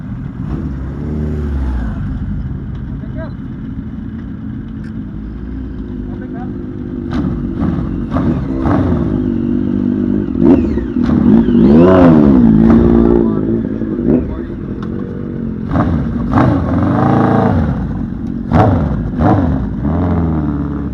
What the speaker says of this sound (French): Fabien vient de partir avec son 100 GSX